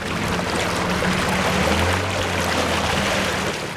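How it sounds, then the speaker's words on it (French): Motorized wooden boat crossing a lagoon toward the stilt village of Ganvié, Benin, its engine droning steadily and loudly with a low hum under continuous rushing water, no voices. "Nous voici à bord d'une barque motorisée. Le moteur vrombit."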